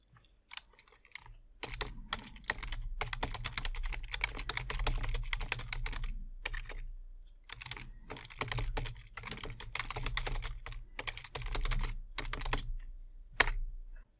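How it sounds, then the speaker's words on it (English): Rapid typing on a computer keyboard while text is entered in the vi editor: bursts of close, crisp key clicks separated by short pauses. "I can now start typing text."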